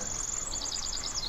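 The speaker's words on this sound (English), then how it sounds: "hearing a bird chirp here and there." A bird in a forest gives a quick series of high, thin chirps, fairly clear over a low, steady background hum.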